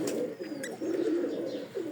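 A Lal Dum pigeon, an Indian high-flying breed, coos softly and repeatedly, low throaty murmurs close by, with a faint bird chirp in the background.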